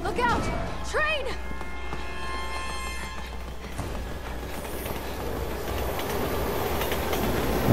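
A train rushes past in the video game Resident Evil 6, building into a loud, sustained rumble with rattling clatter while people talk excitedly over it.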